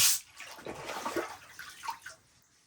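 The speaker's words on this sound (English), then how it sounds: "The water's going down very quickly, actually." Water gurgles and rushes away as it drains quickly down a spring house pipe, a brief splashy burst at the start then bubbling flow fading.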